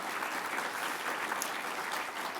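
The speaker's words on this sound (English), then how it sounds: "give them a big round of applause for today" Audience applause fills a Capital Region Transportation Forum hall, a steady, dense wash of many hands clapping at close range for the full stretch, with no talk over it.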